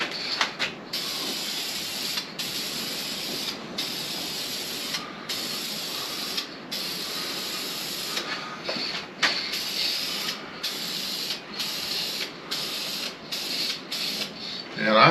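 Hissing spray from a can of Duplicolor Metalcast Blue coating the valve covers of a 1977 Ford F150, a steady close spray broken by many short pauses between bursts.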